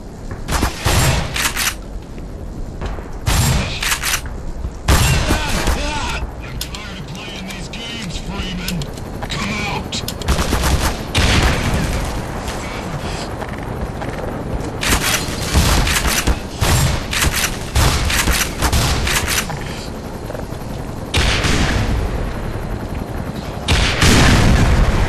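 Steady gunfire and booming explosions from the Black Mesa game, loud and nearly continuous throughout, with repeated heavy blasts and a voice talking over the action at times.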